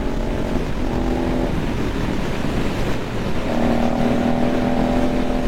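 A Suzuki GSX-8S motorcycle engine pulls through the gears with a steady roar, a brief lull in the middle, then rising revs again over heavy wind rush, with no talking.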